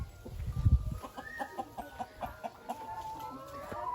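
Backyard chickens at a rural Thai farmhouse cluck in a steady string of short, soft calls, a low thumping handling noise at the start, no voices present.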